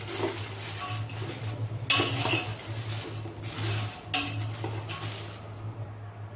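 Sankeshwari chilies roast in a pan with a little oil, stirred with a utensil that scrapes and clatters against the metal in several distinct bursts, close up with no talking.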